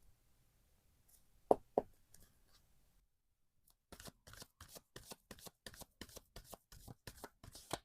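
Oracle cards being shuffled during a tarot reading: a couple of sharp riffling snaps early on, a short pause, then a steady run of about a dozen rhythmic card-shuffle bursts, close and fairly quiet.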